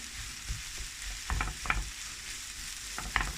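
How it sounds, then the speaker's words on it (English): Bubble and squeak potato mixture is stirred in a frying pan, with a steady sizzle and several scraping strokes of a utensil against the pan at close range and no talking. "So I'm going to mix all this up together."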